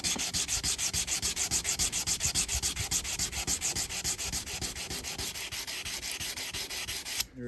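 Stainless steel car trim is rubbed by hand with emery cloth in fast, even back-and-forth strokes, giving a steady rhythmic scratchy rasp that stops abruptly at the end.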